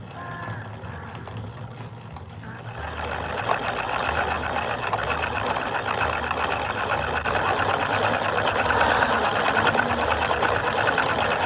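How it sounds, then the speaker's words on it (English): A yarn winder turning yarn into cakes, giving a continuous mechanical whirring hum that rises and steadies after a softer start, close and without speech. "we have to wind these up into cakes so that we can travel with them"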